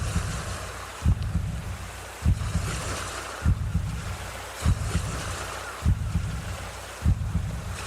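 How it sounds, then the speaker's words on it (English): Ocean waves wash onto a beach in a steady, close roar of surf with wind buffeting, broken by a regular low thud about every second. "listening to the waves."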